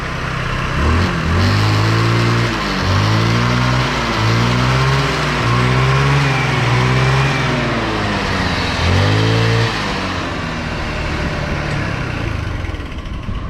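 A small Chinese 125 cc scooter engine revs up repeatedly in rising and falling bursts, loud and close, then settles back to a steady idle.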